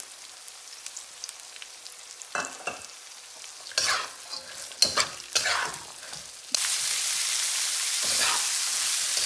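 Mixed vegetables stir-fry on high heat for schezwan fried rice, with loud scraping and clattering of a spatula in the pan, then a strong, continuous close sizzle.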